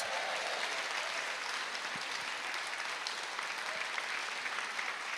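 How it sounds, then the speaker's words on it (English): A large audience at a St Andrew's Hospice 40th anniversary celebration evening in Airdrie gives sustained, even applause, a continuous wash of clapping from a sizeable crowd lasting over five seconds. "Give yourselves a huge round of applause."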